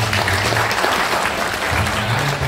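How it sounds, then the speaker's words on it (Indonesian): An audience at a university rector's welcoming speech during a fisheries management meeting in Makassar breaks into loud, continuous applause that fills the room evenly throughout. "Tepuk tangan dulu untuk Pak Zali."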